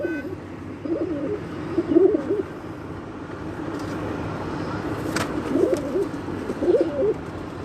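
Breeder pigeons in Islamabad coo in soft, throaty rolling phrases, two pairs of coos separated by a pause, over steady outdoor background noise.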